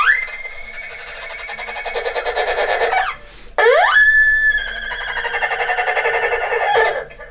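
An erhu imitates a horse's neigh with bowed, sliding whinnies, loud and close: a long wavering phrase, a brief pause, then a sharp upward swoop into another quivering neigh.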